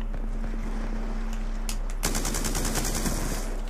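Rapid automatic gunfire from a Black Ops 2 multiplayer match, a dense close burst in the second half following scattered shots and a steady game hum.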